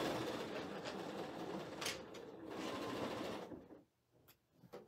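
Sewing machine chain piecing quilt star blocks, a fast steady mechanical whirr that runs continuously, then stops near the end with a few brief stitches after.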